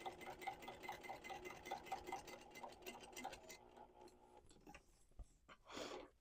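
A domestic sewing machine stitching a sling bag with a 1/8 inch presser foot, a quiet, rapid rhythmic clatter for a few seconds that then stops, followed by soft handling noises and a brief rustle of fabric.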